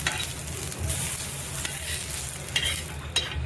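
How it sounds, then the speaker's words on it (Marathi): Chillies, garlic and ginger roast in a pan with a steady sizzle and scraping stir strokes, close and continuous, with a few louder scrapes near the end and no voices. "मिरच्या लसूण अद्रक मस्त भाजून घेतलंय"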